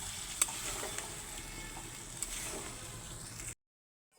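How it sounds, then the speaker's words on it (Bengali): Rui fish curry being stirred in a pan just after water is added, a steady soft sizzle with scraping stir strokes and a couple of small clinks, then cutting to silence near the end. "জল দিয়ে আরও একটু ভালো করে নেড়ে চেড়ে নিচ্ছি"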